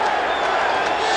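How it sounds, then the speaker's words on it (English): American football stadium crowd chanting defense during an NFL game, a broad steady roar of many voices filling the air throughout, loud and continuous, with faint pulsing rhythm. "the crowd starts to chant defense"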